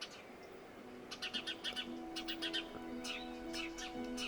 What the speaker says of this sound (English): It's actually so nice to have the only noise you hear for days on end be birds.